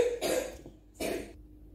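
Two separate coughs, a short pause between them, sound close and fairly soft in a quiet room during herbal tea preparation.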